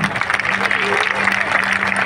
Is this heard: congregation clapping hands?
yes